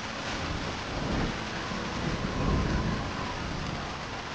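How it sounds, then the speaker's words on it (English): Rain and thunder weather in the Fallout: New Vegas video game, a steady wash of rain with a deep, rolling rumble of thunder swelling beneath it throughout. "You can hear the rain pattering on the roof from inside."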